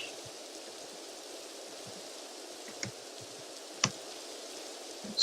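Steady rain in Minecraft makes a soft, constant hiss throughout, with a few faint clicks and taps on top.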